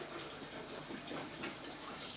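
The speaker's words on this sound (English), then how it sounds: "I'm going to pour in the three gills of water." Water poured into a cooking pot while making stoved hen, a Scottish chicken and potato dish, giving a steady broadband splash and gush that holds at an even level throughout, close by with no talk.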